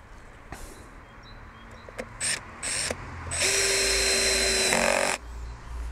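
A power drill drives 30 mm screws into wood in short whirring bursts, building to a longer sustained run near the end, close and fairly loud over a quiet background.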